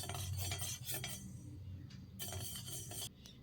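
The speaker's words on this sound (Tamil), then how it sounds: "இப்போ கை விடாமல் இந்த மாதிரி கலந்துக்கிட்டே இருங்க. கடுகு நல்லா பொரிஞ்சு வரணும்." Metal spoon stirring mustard seeds and fenugreek in a hot pan for tomato pickle, steady scraping and clinking against the pan with faint sizzling, close and alone.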